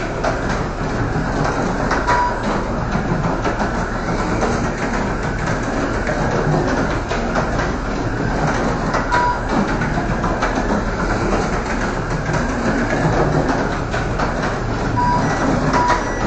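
AFX SRT slot cars lap a raceway track, their small electric motors giving off a loud, continuous buzzing whine, steady and close, with faint repeated beeps from a timer and no talking.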